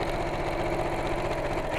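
A sewing machine stitches a bolster cushion cover at slow speed, with a fast, even mechanical chatter of repeating needle strokes, close and continuous for under two seconds.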